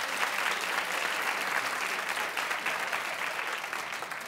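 A studio audience at a daytime talk show claps steadily and densely throughout, a sustained wash of applause with no pauses and no talking.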